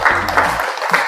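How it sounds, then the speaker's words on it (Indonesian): Brief burst of applause from a class group at the close of a discussion session, dense clapping fading within about a second. "Sekali lagi tepuk tangan untuk kita semua."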